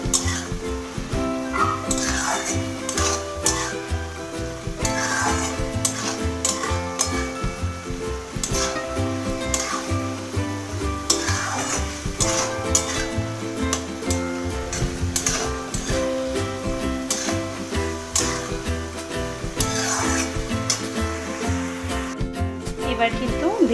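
Bottle gourd simmering in a pan on a high gas flame is stirred, with steady sizzling and clinks of utensil on metal over the whole stretch. Music plays throughout.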